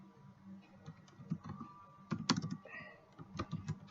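Quiet, irregular clicks of computer keyboard keys being typed nearby, short bursts of keystrokes with small pauses between.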